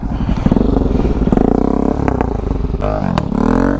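A motorcycle ridden in practice circles revs loudly and close by, its engine pitch rising and falling as the throttle is opened and eased over a few seconds.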